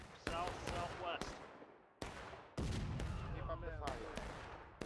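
Musket volleys in the Civil War game War of Rights: several sharp, close reports, some overlapping in quick pairs, each ringing into a short echo across an open field, with distant shots and voices underneath.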